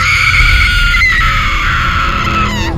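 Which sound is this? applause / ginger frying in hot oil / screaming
screaming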